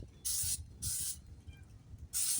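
Oil is sprayed onto a hot skillet on a grill to season it: three distinct bursts of loud, close hissing spray, separated by quieter gaps with low background rumble.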